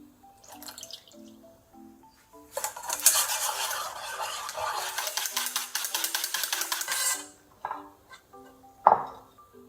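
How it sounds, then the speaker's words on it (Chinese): A whisk clatters rapidly against a bowl as eggs, sugar, salt, vanilla, milk and cream are beaten, a steady close scraping run of several seconds between lighter taps and clinks. "加入鸡蛋、糖、盐、香草精、牛奶，还有鲜奶油，搅拌均匀"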